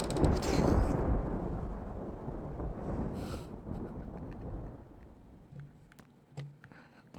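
Thunder rumbles loudly with a strong burst at the start, then rolls on as a long, low fading roar with a few faint crackles near the end.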